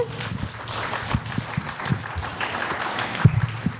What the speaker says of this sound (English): Round of applause for that song.